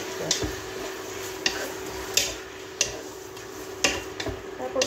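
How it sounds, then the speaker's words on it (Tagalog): Marinated chicken with garlic, onion and ginger being stirred in a bowl or pan, giving soft scraping and occasional sharp clinks of utensil against the dish at an irregular pace, close and fairly quiet, with no talk. "haluin lang natin siya guys para ano yung garlic, onion at saka ginger sa chicken manuot"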